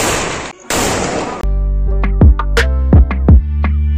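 Several sharp Diwali firecracker bangs go off one after another in a village, loud and close, each ringing briefly, following a burst of noisy hiss.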